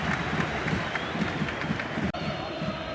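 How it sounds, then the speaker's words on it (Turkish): Fans in a football stadium applaud a player during a Beşiktaş–Barcelona Champions League group match, a broad, continuous roar of clapping and crowd noise that sounds distant and washed out. "Bu kez de alkışlar Şorumlu için"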